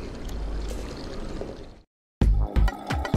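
Water gushing from a tap in the puzzle adventure game Machinarium, a steady pour that cuts off abruptly into brief silence before a few sharp knocks and clanks follow.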